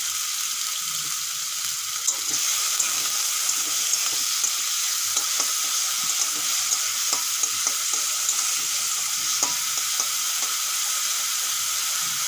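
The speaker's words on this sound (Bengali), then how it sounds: "তেল গরম হয়ে গেছে, আমি কিছু চিংড়ি মাছ ভেজে নেব" Shrimp seasoned with salt and turmeric fry in hot oil, giving a steady, close, loud sizzle with scattered crackles and pops that run unbroken throughout.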